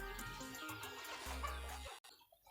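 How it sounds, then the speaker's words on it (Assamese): Chickens in brooding on a small farm cluck and call in a steady busy chorus, fairly close, over a low continuous hum that cuts off abruptly near the end. "এইবিলাক মুৰ্গী ব্ৰডিঙত আছে"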